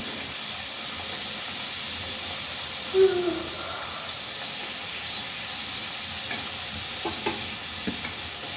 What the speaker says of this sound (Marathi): दुसऱ्या पण करंज्या अशाच तळून घ्यायच्या।